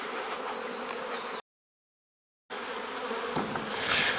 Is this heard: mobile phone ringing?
no